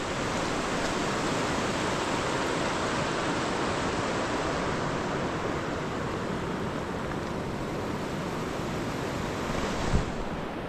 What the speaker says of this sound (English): the river.